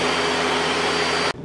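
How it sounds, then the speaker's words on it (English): A kitchen blender whirs through cucumber and coconut water, a loud, dense, steady roar that cuts off abruptly near the end, with no talking. "Blender up."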